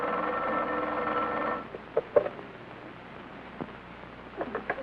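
A telephone rings for about a second and a half in a 1930s radio comedy, a sustained electronic trill, then stops, leaving faint clicks and shuffling in a quiet room.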